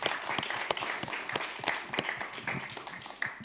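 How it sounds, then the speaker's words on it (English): An audience at a live event applauds steadily, a dense wash of clapping with sharper individual claps standing out, moderately loud and continuous with no talking. "can we just give a round of applause and just name that work that's happening here?"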